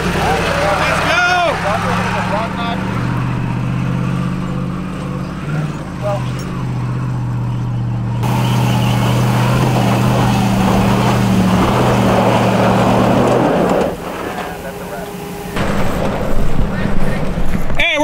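An off-road truck on Dirtnation Hill roars through a burnout, the engine loud and sustained with wind buffeting and excited crowd voices shouting over it, the pitch shifting as the revs climb and drop.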